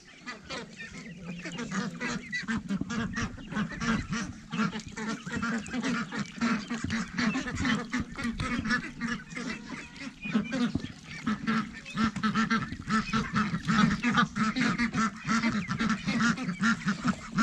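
A flock of farm ducks quacks continuously and loudly, with overlapping calls forming a busy, unbroken chorus from start to finish.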